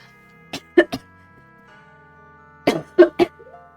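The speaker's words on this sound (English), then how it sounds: "Sorry, the coughing is allergies." Two quick bursts of allergy coughing, three sharp coughs each, separated by a short pause, close and clear over a faint steady hum.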